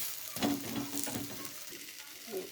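Breakfast food being pressed down and fried in a pan makes a quiet sizzle with soft scraping and pressing sounds, close but low in level, with no talking.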